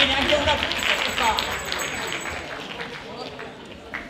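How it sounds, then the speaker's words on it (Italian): Applause from an audience greeting Santa Claus at a Christmas music, dance and theatre show, a steady broadband wash of clapping filling the clip with some voices mixed in. "Applauso a Babbo Natale!"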